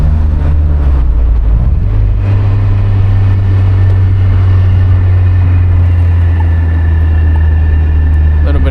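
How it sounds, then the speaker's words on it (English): Road traffic surrounds a moving car in a steady, loud rumble of engine and tyre noise, a low drone that persists throughout. "A little bit of traffic."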